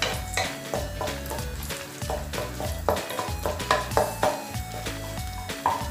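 Raisins fry in a pan for an apple semiya kheer while being stirred, a close sizzle broken by repeated scraping strokes and light metallic knocks in an uneven rhythm.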